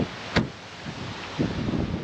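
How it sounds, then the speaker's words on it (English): Strong wind buffeting a truck and Airstream trailer stopped at a rest area at the Iowa-Minnesota border, a steady rushing noise with a sharp bump and gusty surges. "This whole drive has been extremely windy."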